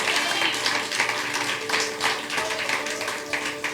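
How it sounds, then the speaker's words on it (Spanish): A church congregation applauding God during a sermon, a steady wash of many hands clapping at once with faint voices mixed in throughout. "Si le va a aplaudir a Dios, apláudale fuerte."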